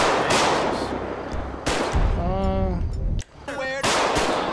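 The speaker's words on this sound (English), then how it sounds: "Shots fired." Loud, close gunfire in Grand Theft Auto V, sharp shots in bursts spread across the clip with heavy echoing blasts between them.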